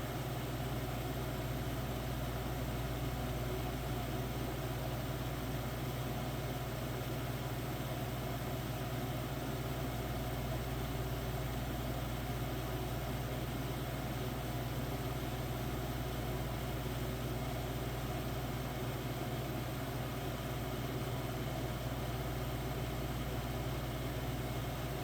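A Capehart dehumidifier with a freshly oiled motor runs continuously with a steady, even hum and whir, unchanging throughout, with no voices.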